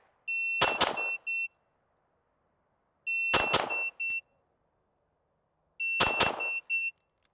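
A shot timer beeps, then a rapid string of pistol shots follows, three times over, with pauses between each beep-and-fire sequence; sharp, loud and close, on an outdoor range at 15 yards.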